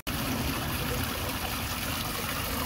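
Water trickles steadily from the tell-tale outlet of a Yamaha outboard engine during a water-and-vinegar flush, a continuous close, even running stream with no talk.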